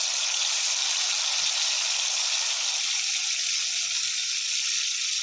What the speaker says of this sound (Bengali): তেলের মধ্যে এই দই আর লঙ্কার মিশ্রণটা দিয়ে দেবো